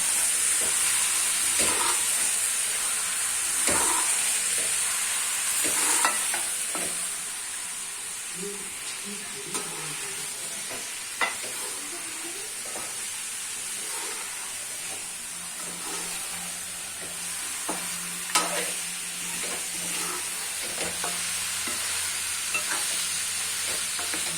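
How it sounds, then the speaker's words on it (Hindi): Potatoes and minced meat fry in a home kitchen pan, a steady loud sizzle running throughout with intermittent scraping stirs and a faint voice now and then. "अब इसमें आलू डाल देंगे और आलू भी भून देंगे साथ में।"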